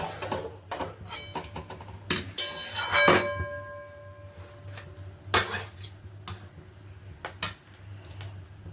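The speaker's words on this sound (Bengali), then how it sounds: "আবারও কড়াই বসিয়ে দিলাম।" Metal cookware clatters and clinks in a few sharp bursts as a wok is set on the stove, with a ringing metallic knock midway, followed by quieter scattered kitchen clatter.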